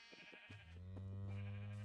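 Sheep in Minecraft bleat from a farm pen, a few short clear bleats with harmonic tone, fairly close and with no one talking.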